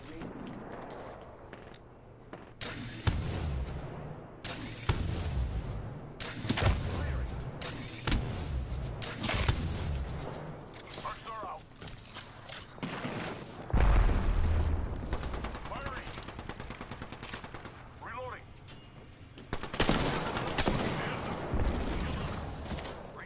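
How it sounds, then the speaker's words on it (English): Bursts of gunfire in Apex Legends during a sniper-only match, loud sharp shots and heavy booming volleys spread across the clip with pauses between, mixed with game effects and occasional talk. "Opening fire on the enemy."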